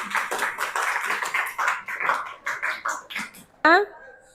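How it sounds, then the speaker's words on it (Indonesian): A class claps in quick, scattered bursts of applause for students who completed a Padlet activity. Voices rise over the clapping, and a sharp vocal sound breaks in near the end. "tepuk tangan untuk yang sudah ngisi"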